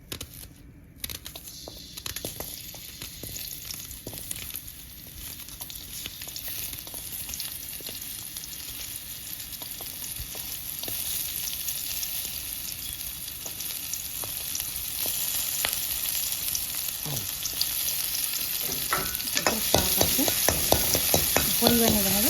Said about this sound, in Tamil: கொஞ்சம் 2 ஸ்பூன் எண்ணெய் ஊற்றி வெங்காயத்தை கட் பண்ணி ஒரு 1/2 வெங்காயம் கட் பண்ணி போடணும்